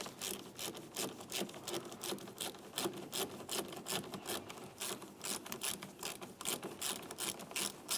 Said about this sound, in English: We'll go ahead and remove this 13mm headed nut and then take the wiring off of the terminal end